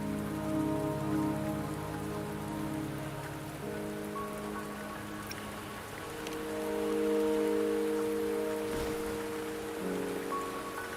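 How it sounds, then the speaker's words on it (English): Steady rain falls in the video game Wuthering Waves, a constant hiss of drops lasting throughout, with tonal background music layered beneath and no speech. "Don't worry, the rain won't last much longer."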